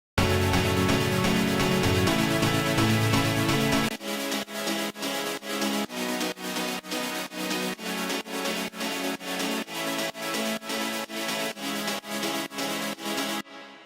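Sustained progressive house synth chords with reverb ring out, then switch to a rhythmic sidechain-pumping pattern as each chord swells and ducks in steady repeated pulses, with no voices.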